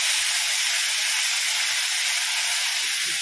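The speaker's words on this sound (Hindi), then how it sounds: "अब घी को अच्छे से गर्म कर लेना है और ये साबूदाना को हम इसमें डालेंगे।" Sabudana (tapioca pearls) cooks in hot ghee, giving a steady, loud, hissing sizzle that holds unbroken from start to finish.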